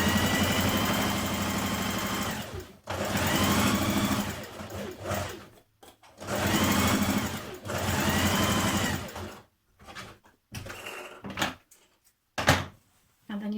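A sewing machine stitches a gathering row on a skirt in several loud, close bursts of rapid, even whirring, separated by short pauses and a few clicks.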